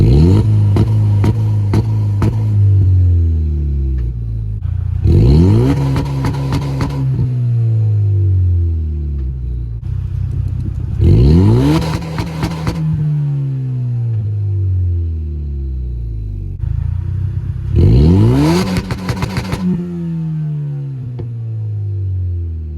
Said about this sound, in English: Already you can tell it's not a very loud engine. I do have a performance exhaust on it.